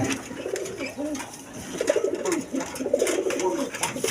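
Indian Kaldom pigeons cooing close by, repeated soft rolling coos overlapping in an irregular rhythm, with faint background noise and no clear talk.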